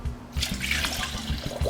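Two cups of spring water poured into a blender for cheese sauce, a steady splashing gush of liquid running the whole time, close and fairly loud.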